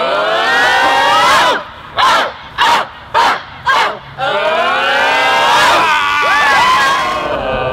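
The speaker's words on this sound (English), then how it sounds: "This is called the roller coaster cheer." Crowd at a Columbus Academy football game chanting the roller coaster cheer: loud massed shouting that rises and falls, broken midway by four short rhythmic shouted bursts, then swelling again into sustained chanting.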